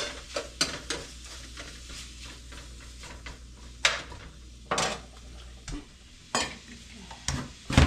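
Beef browns in a pot for barley soup, giving a steady sizzle with a spoon stirring and scraping against the pot in sharp, irregular bursts close by.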